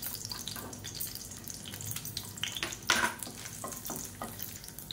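Garlic cloves and dried red chillies sizzle in hot oil for a chutney, a steady crackling fry with scattered pops and one sharper spatter midway.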